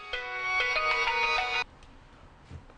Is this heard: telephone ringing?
yes